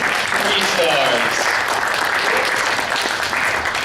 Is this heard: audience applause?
yes